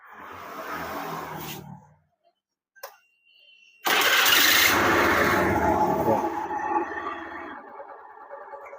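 A Honda BeAT FI scooter engine, worn from neglected oil changes, is cranked, briefly dies with a couple of clicks, then catches and runs with a loud, rough, rattling idle close by.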